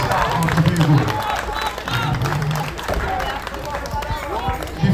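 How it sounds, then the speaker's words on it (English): Audience applause and crowd noise at a steelpan festival in Tobago, steady clapping mixed with voices and some background music throughout. "Another round of applause, please, for the future Steelpan right here in Tobago."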